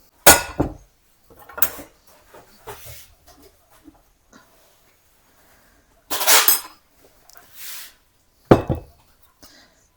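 A spoon stirs a milk and flour mixture in a bowl, with intermittent bursts of clattering and scraping separated by quiet gaps.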